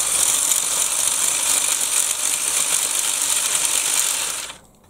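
A toy Bruder CAT RC excavator with its track motors running and the track fitted, giving a steady, close whirring and ratcheting mechanical clatter that cuts off abruptly at the end.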